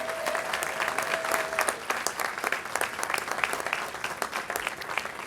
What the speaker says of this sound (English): Let's give a big round of applause for the family.